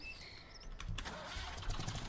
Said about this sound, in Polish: I ten ciągnik jest do kultywatora.